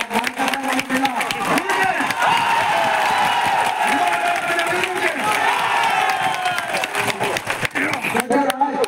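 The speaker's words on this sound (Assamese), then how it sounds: "তেতিয়াহ'লে শিৱসাগৰ মানুহৰ কাৰণে আপোনালোকে হাত তালি এটা দিব লাগেনে নহয়" Crowd at an outdoor election campaign rally in Sivasagar, Assam, breaking into sustained loud applause and cheering, with voices shouting over the clapping throughout.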